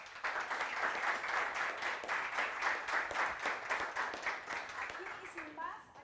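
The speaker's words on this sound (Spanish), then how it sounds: "vamos a darles un aplauso al doctor" Audience at an ergonomics and biomechanics talk applauds the doctor: steady clapping from a moderate-sized crowd throughout, with faint voices coming through near the end.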